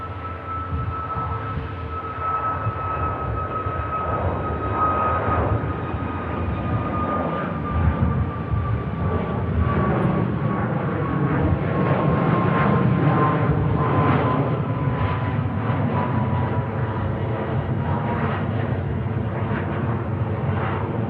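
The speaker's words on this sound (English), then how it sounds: "Next departure. Ryanair." A Ryanair jet departing Manchester Airport, its broad engine roar steady and loud for the whole stretch, with a slowly falling whine riding above the rumble as the aircraft climbs away.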